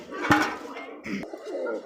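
A male fancy pigeon cooing close by, short throaty coos over a couple of seconds mixed with small clinks and faint background voices.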